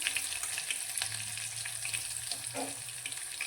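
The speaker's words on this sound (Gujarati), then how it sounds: "હવે બધી જ વસ્તુઓ આપણી સારી રીતે તતરી ગઈ છે" Green chili, curry leaves and asafoetida sizzle steadily in hot oil for a potato curry, a continuous close frying crackle with a brief stir partway through, no voices.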